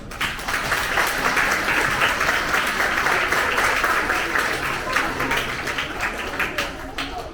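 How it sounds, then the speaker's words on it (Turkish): Children applaud their parents and grandparents at a children's chess course ceremony in Bornova, a steady, fairly loud round of clapping that carries on for several seconds with a few voices mixed in. "Öncelikle çocuklarımız annelerini, babalarını, dedelerini, anneannelerini bir alkışlasınlar."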